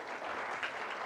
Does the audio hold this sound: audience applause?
yes